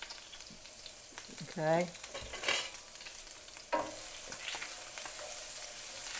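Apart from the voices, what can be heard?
minced shallot frying in butter for risotto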